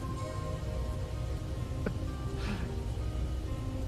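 Steady rain pattering on a surface as a sound effect during a Space Engineers game stream, a continuous soft wash of drops with no talk over it.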